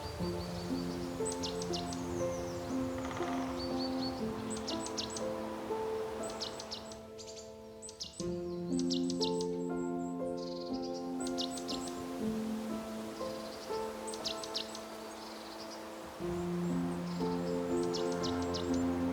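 Birds chirp and sing in repeated short bursts across Madera Canyon, a cool, stream-fed oasis in Arizona's Sonoran Desert, moderately distant over a steady rustling background and low sustained tones.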